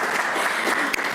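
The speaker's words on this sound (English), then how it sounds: "let's give one more round of applause to our panelists for sharing their organization's missions." An audience applauds panelists at a community Iftar gathering, a brief dense burst of clapping from many hands in a room.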